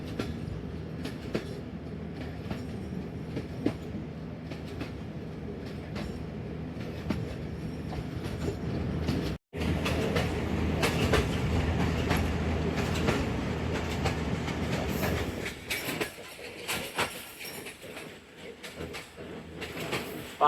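A Sialkot Express passenger train runs along the rails with a continuous loud rumble and rhythmic clickety-clack heard from on board, briefly cutting out, then easing and thinning toward the end.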